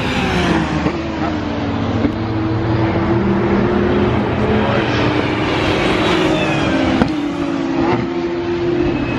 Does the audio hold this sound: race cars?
yes